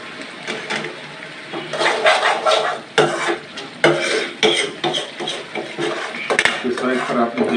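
A spoon stirs masala in a pan while cooking chicken pota kaleji, giving loud, continuous scraping and clattering against the metal over a steady sizzle, with a few sharper knocks.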